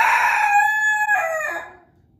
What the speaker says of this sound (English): We only have 3 chickens.